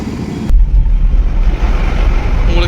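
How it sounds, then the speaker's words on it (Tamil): Rumbling road traffic near the T.D. Naidu bridge, heard from a Tata Ace delivery vehicle, a loud continuous low engine and tyre drone that starts abruptly and carries on throughout. "இந்த பாலம் ஸ்டார்டிங் வரைக்குமே டிராஃபிக்குங்க"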